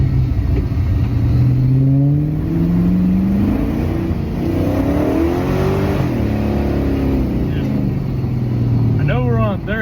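An LS V8 swapped into a BMW E60 rumbles and revs while driving on dirt, engine pitch climbing and falling in repeated pulls, loud and close inside the car, with someone talking over it.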